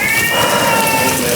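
An elderly 19-year-old cat yowls in long drawn-out wavering cries, loud and close, sustained through the whole moment with no talking.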